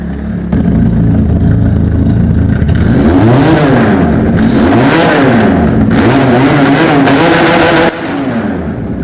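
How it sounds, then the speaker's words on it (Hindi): A sport motorcycle engine idles, then is revved hard several times in quick surges, pitch climbing and dropping, loud and nearby with no talking. "बाइक का बस साउंड सुनेंगे तो आप समझ ही आ जाएगा"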